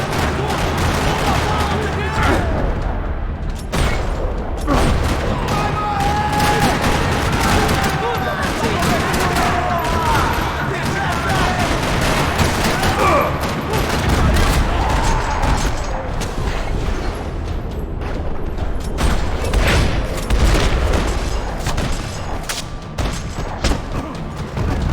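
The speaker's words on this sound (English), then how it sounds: "Another parking lot rattling with gunfire." A gunfight rages in a parking lot in the video game Max Payne 3, with rapid overlapping shots, bursts of automatic fire and heavy booms packed densely throughout at loud volume.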